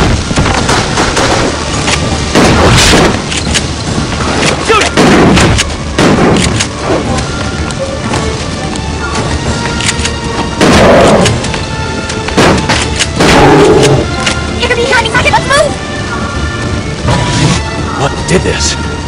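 Loud, repeated gunshots and booming blasts from the video game Resident Evil Darkside Chronicles, firing in bursts across the stretch with a voice talking in between.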